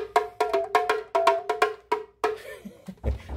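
A small tamborim with a slack, out-of-tune head struck repeatedly in a quick, uneven rhythm, ringing with a dull, slightly tinny tone, close and fairly loud.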